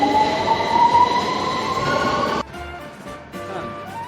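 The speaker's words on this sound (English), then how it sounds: "the underground from Walthamstow to King's Cross" London Underground train running between Walthamstow and King's Cross: a loud, steady rumble with a high whining tone, dropping abruptly to a quieter rattling ride partway through, with no talk.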